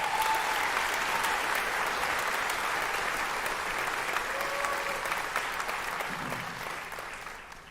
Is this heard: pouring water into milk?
no